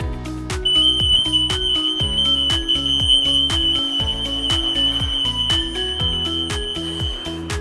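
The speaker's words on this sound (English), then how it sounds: "Okay, this is our self-alarm tag." An EAS AM self-alarm security tag on an ABS plastic base sounds a steady, loud, high-pitched electronic beeping alarm that pulses continuously and close up, with no talking.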